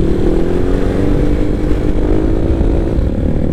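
A motorcycle engine, just back from a routine service and fitted with a 32 mm throttle body, revs loud and close in a continuous low, steady roar with no voices.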